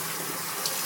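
Water runs steadily from a bathroom tap to wet the face before a shave with the Bevel shaving system. The flow is a short, even splash of moderate loudness with no voices.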